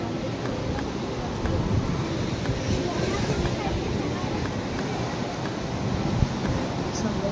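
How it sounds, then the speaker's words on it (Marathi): Big, rough sea waves surge at night by a seafront resort in Trivandrum, Kerala, a steady broad roar of surf with wind buffeting the microphone throughout. "समुद्राच्या वेव्स खूप मोठ्या मोठ्या आहेत आणि फार खवळलेला आहे हा समुद्र"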